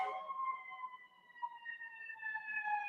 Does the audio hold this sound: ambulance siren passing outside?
yes